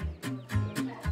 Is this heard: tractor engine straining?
no